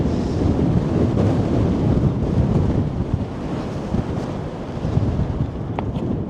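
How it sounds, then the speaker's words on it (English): Strong wind blows outdoors near a mountain summit, buffeting the microphone in a loud, gusty low roar that swells and eases over several seconds, with no speech. "ooh, it's really windy now"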